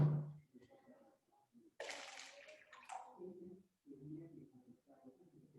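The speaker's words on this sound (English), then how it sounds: "Okay, so I'm going to add water." Water splashes and trickles briefly into cups for a classroom science experiment; the faint pour is followed by soft talking.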